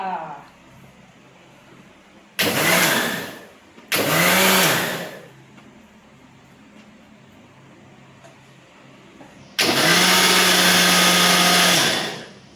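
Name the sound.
blender mixing mangoes for a mango shake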